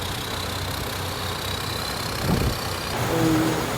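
A rice harvester's engine idles in a Thai paddy field, a steady loud rumble with a slight rise in revs partway through, with no voices over it.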